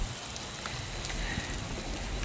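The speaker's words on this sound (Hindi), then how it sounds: "और ये पानी गिरने लगा।" Rain falls steadily outdoors as the sky darkens, a constant soft patter and hiss of drops over the whole stretch, with no one talking.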